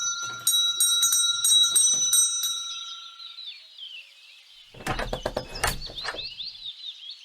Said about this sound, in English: Be so kind as to ring the doorbell